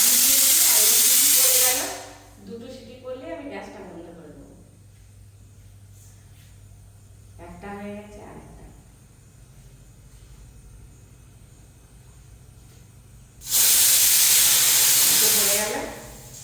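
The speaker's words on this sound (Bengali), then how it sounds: "রাত্রে ভাত আমাদের কোথায় হয় দেখো দিদি প্রেশার কুকারে হয়" A pressure cooker cooking rice releases loud, sustained bursts of hissing steam at the start and end, and a quieter stretch in the middle carries faint talk and kitchen noise.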